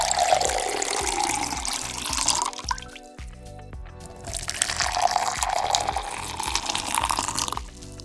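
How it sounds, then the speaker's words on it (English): Water pouring into a glass, a steady splashing stream that pauses briefly and then resumes for a second glass, cold water first and hot water second, close and clear with no talking. "listen to the sound of the water"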